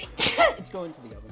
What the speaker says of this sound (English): That was the cutest sneeze I've ever heard.